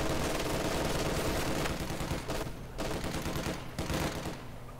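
Machine gun fire from a heavy machine gun position in Company of Heroes 2, a Soviet-side battle, loud and sustained with dense overlapping bursts that dip briefly before resuming, layered over general battlefield noise.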